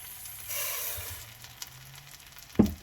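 Rice frying in a pan for Spanish rice, a soft steady sizzle with a light stir, ending in a sharp close clatter of a utensil against the pan.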